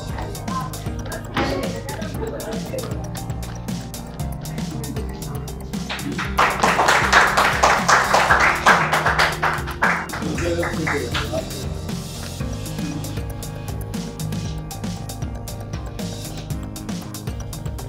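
An audience at an ashram felicitation event claps under speech, with a burst of dense applause rising in the middle, then thinning back to scattered claps as talking continues.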